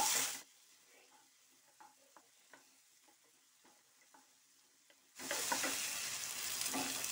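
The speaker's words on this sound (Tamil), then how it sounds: "இப்போ நான் கட் பண்ண தக்காளி போடுறேன் நான் ரெண்டு தக்காளி கட் பண்ணி வச்சுருக்கிறேன் இப்போ இதையும் சேர்த்து நல்லா வதக்கிக்கலாம்" Onions with two chopped tomatoes sautéing in a pan for a chilli bread dish; a loud sizzle opens and returns at the end, with quiet intermittent stirring clicks between the bursts and no talking.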